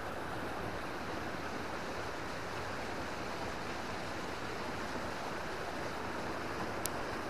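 A river flows outdoors on a mountain trek, a steady broadband rush of water that holds constant throughout at moderate level, with no voices over it.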